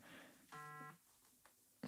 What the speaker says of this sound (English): Sorry for that notification.